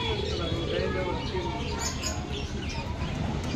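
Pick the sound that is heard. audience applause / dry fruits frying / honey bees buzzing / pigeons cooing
pigeons cooing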